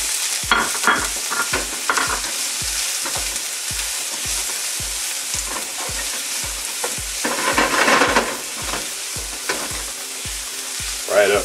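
Chopped onion sizzles loudly and steadily in a pan while a low, regular thump repeats about every half second underneath, with louder bursts of crackle and stirring partway through and no voices.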